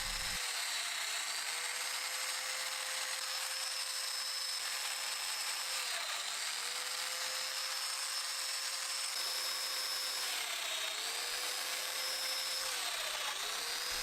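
A mortising cutter plunge-cuts into a wood cabinet panel, giving a loud, continuous high-pitched whine that holds steady for the whole stretch, dipping briefly in pitch a few times as the bit bites into the wood.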